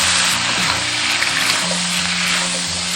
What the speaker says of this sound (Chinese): 先用油把这个大蒜给它炸香，接着加入香料